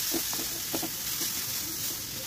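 Sizzling in a pan as onion-garlic masala, turmeric and salt are sautéed for an aloo paratha filling, a steady bright hiss with faint stirring scrapes, close and continuous, no talking.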